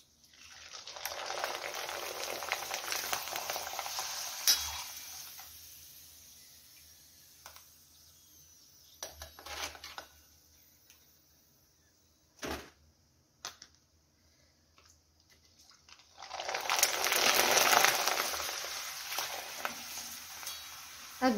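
Rice papad made from ration rice frying in hot oil in a large wok, a loud, dense sizzle at the start and again near the end, with quieter crackling and a few sharp knocks in between.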